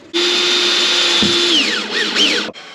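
A power drill whirs steadily at close range inside a Peugeot Boxer van during a camper conversion, its motor pitch holding then dropping and rising in short bursts before cutting off.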